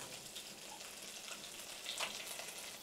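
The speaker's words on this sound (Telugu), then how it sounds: "సో గురూజీ, పోపు చేద్దాం. ఆవాలు వేస్తాము." Mustard seeds and cumin sizzle in hot peanut oil for a tempering, a steady bright crackle throughout with a few sharper pops near the end, close and alone.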